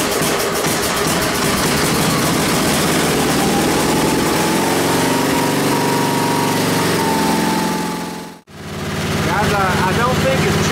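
A Sears small engine runs after a cold start, a close, steady buzzing putter, cutting out abruptly near the end before resuming.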